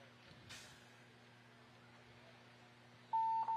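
A short electronic buzzer tone sounds near the end over a faint background hum, preceded by a soft thud, at a trivia quiz tournament.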